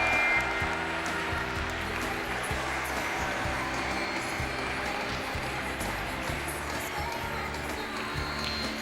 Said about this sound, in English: The seniors are parading in to a round of applause